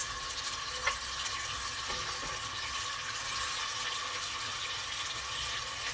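Oil rice with salted beef cooks in a pot with a continuous sizzle and soft scraping of stirring, a few faint clinks, steady and moderately close with no talking.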